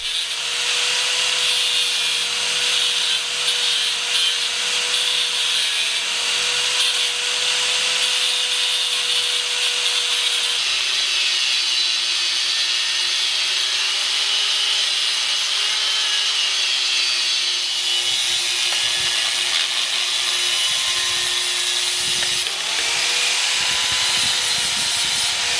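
A power tool cuts through a steel leaf spring for a VW Beetle suspension, making a continuous, loud grinding rasp with a steady whining tone that shifts slightly in pitch and runs without a break for the whole stretch.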